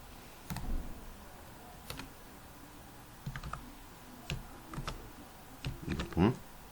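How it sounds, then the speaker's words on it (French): Keystrokes typed on a computer keyboard while filling in a Word document, heard as scattered close clicks in short bursts with gaps between them, fairly quiet, one busier cluster near the end. "Donc je tape ici tel."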